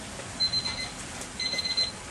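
A kitchen timer goes off during home beer brewing, giving two short bursts of rapid high-pitched electronic beeps over a quiet background hiss.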